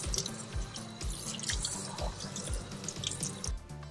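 Tap water runs steadily into a sink while a fashion doll's long hair is rinsed, a close continuous splashing stream with faint dripping and small knocks, no talking.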